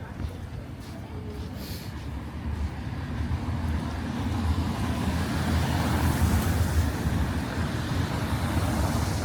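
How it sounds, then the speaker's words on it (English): Steady car traffic on a street in a wealthy Dutch village, a continuous low road rumble that builds slightly and stays moderately loud throughout, with passing vehicles blending together. "I'm surprised by the amount of cars there are."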